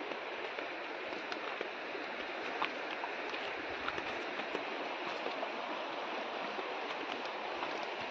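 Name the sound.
river water flowing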